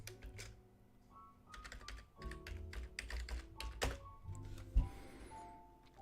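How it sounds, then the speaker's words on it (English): Computer keyboard typing in bursts of quick close clicks and key thunks, with a couple of heavier taps near the end over a faint room hum, no speech. "What was I gonna type in?"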